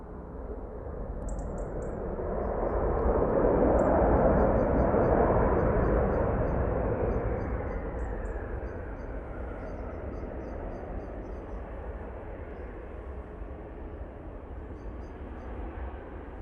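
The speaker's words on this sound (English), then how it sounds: "Aer Lingus coming in from Dublin now" An Aer Lingus airliner arriving from Dublin at Manchester Airport passes as a broad jet roar that swells to a peak midway and then slowly fades, with scattered faint bird chirps over it.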